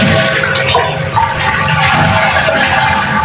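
Water rushes loudly out of a toilet tank as the flapper valve is pulled open, a steady close-up gushing drain that continues throughout with no talking.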